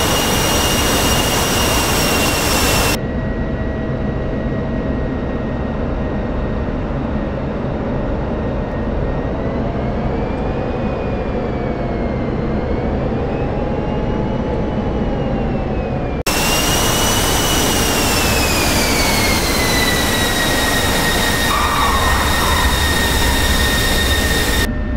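A jet aircraft engine roars steadily during a landing approach in the DCS flight simulator, a loud continuous drone with shifting whining tones that fades and swells over the full length, with no talking.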